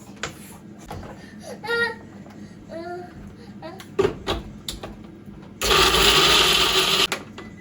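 A kitchen mixer grinds cumin and fennel into a paste. It runs as a loud, dense burst near the end, while speech and a voice come and go before it.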